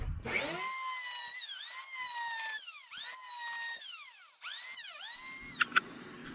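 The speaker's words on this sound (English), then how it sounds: "I'm going to fix that by just rounding off the back with this planer" An electric planer rounds off the back edge of a wooden drawer for an overland van, giving a loud whining motor in repeated passes with pitch dips under load and brief pauses between runs.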